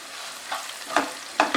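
Fresh curry leaves and onion fry in hot oil in a pan while potato masala for dosa is cooked, with a soft sizzle and a few sharp stirring scrapes.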